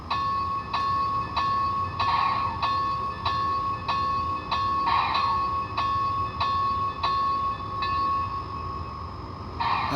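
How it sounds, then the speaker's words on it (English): An Intermountain Railway Southern Pacific 4-8-8-2 AC-12 Cab Forward model locomotive's sound decoder bell rings in a steady, evenly spaced series of metallic dings over a constant low idling engine hum. "Anyway, let's hear the bell."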